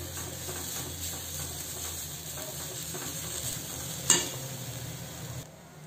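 Asafoetida and curry leaves sautéing in hot oil, a steady close sizzle with light stirring scrapes throughout and one brief sharp spit near the end before the frying quietens.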